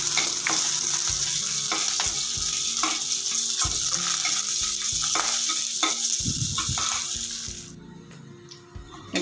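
Green chilies frying in hot oil in a pan for a brinjal chutney, a dense continuous sizzle with intermittent stirring scrapes and taps of a utensil, close and loud, easing off near the end.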